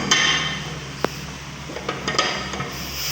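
Sharp metal clanks and taps from fitting the input cover onto a manual transmission during an overhaul, with one crisp strike standing out among several lighter knocks over a steady workshop background.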